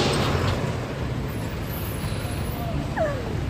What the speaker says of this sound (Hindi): देखो इतनी सारी ट्रैफिक है